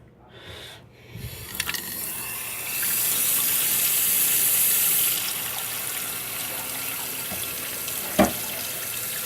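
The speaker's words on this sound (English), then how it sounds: "I'm going to run some cold water on this" A kitchen tap runs cold water over a damaged trading card, a steady rushing stream that swells after a few seconds and holds, with a few small knocks and a sharper tap near the end.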